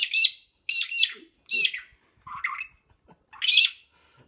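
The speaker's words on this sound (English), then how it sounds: "Who's that pretty little bird?" An Australian native bird calls up close, giving five loud, harsh squawking chirps spaced about a second apart, with quiet gaps between them and no talking.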